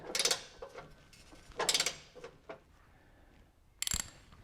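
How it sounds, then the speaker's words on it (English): A ratchet tightens the spindle mount bolts on a lawn mower blade spindle, giving three separate short bursts of rapid metallic clicking with quiet pauses between them. "Double check the tightness of the spindle mount bolts."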